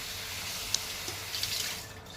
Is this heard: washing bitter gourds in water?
yes